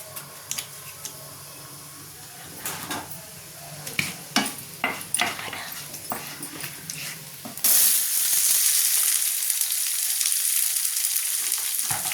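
Onion frying in a pan for paneer masala curry: scattered clinks and stirring scrapes, then a sudden bright, steady sizzle that holds loudly to the end.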